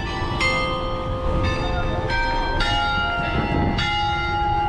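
The bells of the oldest church in Cebu ring out in a steady series of clear, resonant strikes about once a second. Each strike is bright and sustained, heard over a continuous outdoor background hum.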